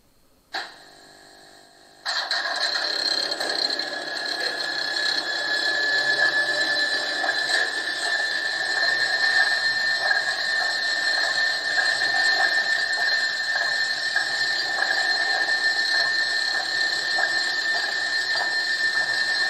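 A 1:32 scale brass E 71 electric locomotive model on Gauge 1 track starts its sound module with a brief click and low tone, then a steady high-pitched electric running whine and hum drone on continuously, close and alone.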